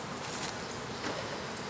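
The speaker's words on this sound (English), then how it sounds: "I'm gonna get these bees back in the hive" A thick mass of nurse honey bees hums at a hive in a continuous close, dense buzz with no voices.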